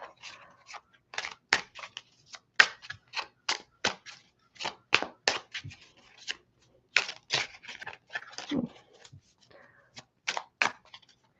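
Tarot cards are shuffled close by in quick, sharp bursts of riffling and slapping with short pauses between them, fairly faint, with no talk over them.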